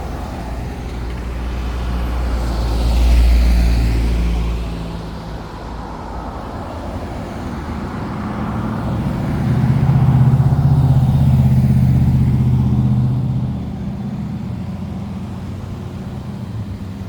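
Cars and trucks pass on Highway 20 at Huntington Ridge amid single-lane congestion, their engines and tyres swelling loud and fading in two broad rumbling waves, with no talk.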